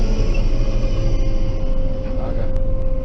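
A combine harvester drives along a road, its engine a loud, steady low rumble with a constant hum throughout and no speech.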